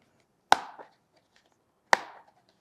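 Two sharp plastic clicks of an HP 11 Fortis X360 G3 Chromebook's screen clips, about a second and a half apart, crisp and close, with faint small rattles in between and otherwise quiet.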